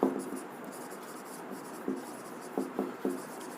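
Chalk scratches and taps across a blackboard in a chemistry classroom, a soft steady scraping with a few sharper knocks as strokes begin, close and fairly loud.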